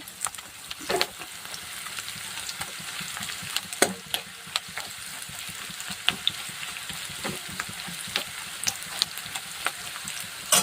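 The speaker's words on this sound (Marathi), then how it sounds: "तर बघा छान कांदासुद्धा भाजला गेलेला आहे मस्त" Chopped onion fries in hot oil in a pan, a steady close crackling sizzle with scattered sharper pops and occasional stirring scrapes, running continuously without talk.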